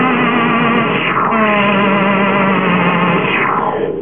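A Korg M500 synthesizer plays a sustained tone with a long attack, steady and loud with shifting tonal bands and an echoing, effects-laden character across the whole stretch, no voices present.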